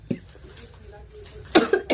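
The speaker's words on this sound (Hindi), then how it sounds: "मुझे खांसी क्यों उठ रही है" A person coughs several times indoors, a single cough near the start followed by a close cluster of harsh coughs toward the end, with quiet room tone between.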